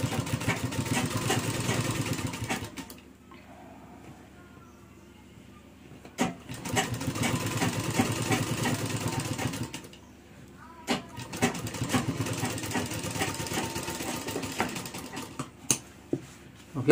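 A sewing machine stitches cross pockets on a pair of pants, running in three sustained bursts with short pauses between them, fairly close and steady.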